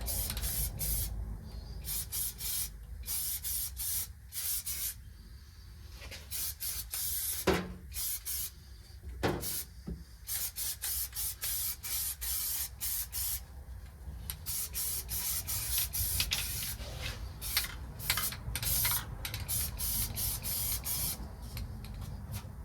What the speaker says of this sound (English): we'll go ahead and self-etch the metal real quick.